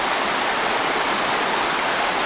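Fast-running river water near the Lake Tahoma dam makes a steady, loud, broadband rushing roar with no breaks and no voices.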